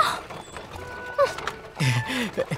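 A donkey cart's hooves clop in short irregular bursts, mid-distance, with bits of voice and animal sounds mixed in among the steps.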